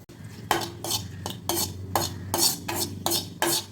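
Mustard seeds, curry leaves and dried chillies stirred in hot oil for avarakkai poriyal, a spoon scraping the pan in a steady rhythm of about eight strokes over a low, constant background hum.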